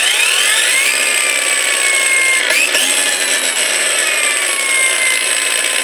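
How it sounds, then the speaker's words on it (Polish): A Parkside Performance X20 PWSAP 20 Li E6 cordless angle grinder whines steadily and loudly, its high-pitched motor tones sliding as it spins up, with a brief dip and recovery midway and no talking. "następnie dać się szlifierce rozkręcić."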